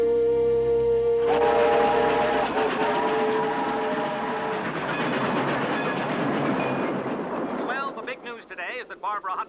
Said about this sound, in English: Hutton is crossing the country in her own private train, the Curly Hut